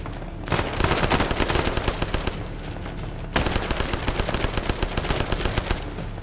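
Rapid automatic rifle and machine gun fire from Arma 3 combat, loud and sustained in dense bursts with a brief lull in the middle before the shooting resumes.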